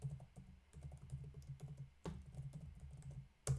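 Soft, rapid typing on a computer keyboard while an email address is entered in Outlook, a steady patter of close, quiet key taps with a couple of sharper keystrokes, no voices.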